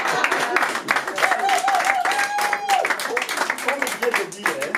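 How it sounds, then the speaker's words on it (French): A crowd applauds the bride's family at a dowry ceremony, brisk clapping running throughout while voices and a sustained, high cheering cry ring out above it. "Acclamons d'abord pour cette famille bien-aimée."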